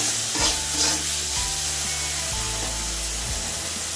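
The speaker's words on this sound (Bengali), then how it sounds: "আর বন্ধুরা দিয়ে দিচ্ছি কাঁচা লঙ্কা চেরা। আমি এখানে 3টে কাঁচা লঙ্কা ব্যবহার করলাম।" Sliced green chilies are stirred in a hot frying pan for jhol shak, with a steady loud sizzle and several scraping strokes of the spoon against the pan, close up and without talk.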